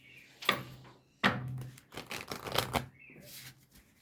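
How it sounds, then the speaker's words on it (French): Oversized oracle cards being shuffled by hand, heard as a few close, papery riffles and slaps in separate bursts with short pauses between them. "Hyper grande ces cartes. C'est un peu galère à mélanger."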